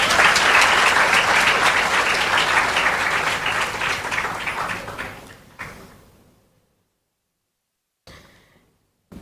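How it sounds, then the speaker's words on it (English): Audience at a national awards of excellence ceremony applauding as an honoree comes up, sustained dense clapping that fades out over the last few seconds into near silence, followed by a brief faint noise. "We can give her another round of applause as she comes up."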